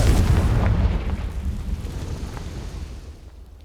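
A Confringo spell blast in Hogwarts Legacy on PS5 bursts with a loud, deep boom at the start, then rumbles and fades over a few seconds.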